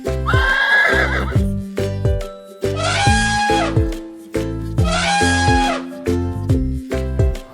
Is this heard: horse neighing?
yes